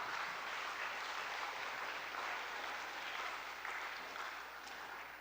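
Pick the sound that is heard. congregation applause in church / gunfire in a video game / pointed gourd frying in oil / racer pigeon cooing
congregation applause in church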